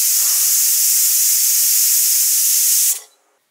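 A loud, continuous hiss of escaping steam from a pressure cooker whistle while cooking papdi muthiya curry, cutting off abruptly near the end into near silence.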